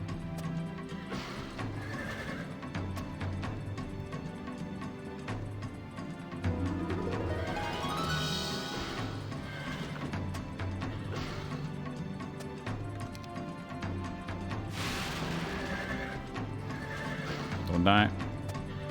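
A horse in the video game Heroes Chronicles neighs repeatedly and gallops with rapid hoofbeats over busy game music and effects, while a player talks throughout.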